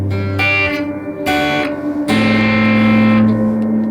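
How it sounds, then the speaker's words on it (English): Electric guitar chords strummed in bursts through a spring reverb pedal, each ringing into a wet, splashy spring reverb tail that drips and wobbles between strikes. "dripping, wet, deep, echoey sound here. But this is more of a spring."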